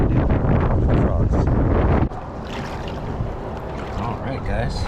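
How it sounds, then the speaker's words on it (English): Strong wind buffeting the microphone in a loud, rumbling roar by a lake, easing somewhat partway through but continuing throughout. "Nice and windy out here today."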